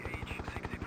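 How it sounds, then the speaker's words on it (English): An Apache helicopter in a video game, rotor thumping rapidly and steadily, loud and close, with a continuous engine whine. "It's Apache helicopter."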